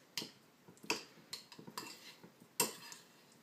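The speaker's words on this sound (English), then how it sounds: "Now we use a spoon to mix it all together. And the spoon can also crush." A spoon mixing and crushing not-very-ripe avocado for guacamole in a bowl, heard as a run of sharp clinks and scrapes in uneven bursts, close and fairly quiet, with no talking.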